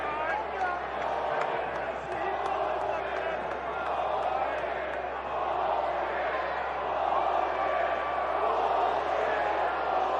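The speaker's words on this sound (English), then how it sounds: "Crowd is very unhappy with Perez for not getting out of the way." A baseball crowd at a Cleveland vs White Sox game voices displeasure at batter Perez for not getting out of the way of a pitch, a dense, steady roar of many voices filling the stadium.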